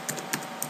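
A few quick keystrokes tap on a computer keyboard, close and light, with a steady background hiss.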